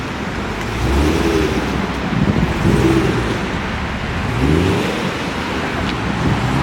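A W1 car pulling away, engine rising as it accelerates off in a few surges, close and fairly loud against a steady background rumble.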